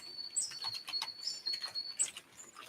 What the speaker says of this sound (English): I'm listening to the birds